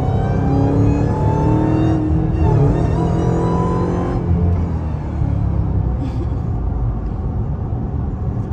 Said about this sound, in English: look at this truck right here trying to race me